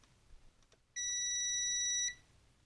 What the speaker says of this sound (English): So there's continuity there.